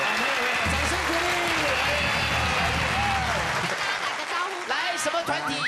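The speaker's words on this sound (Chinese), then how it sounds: "掌声鼓励" Studio audience applause on a 2010 Taiwanese music variety TV show, a broad wash of clapping mixed with background music and overlapping voices, fading toward the end as talk takes over.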